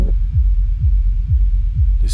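Four deep, muffled low-pass filtered kick thumps with no click, from a track, each a low booming rumble that drops in pitch, repeating at an even pulse.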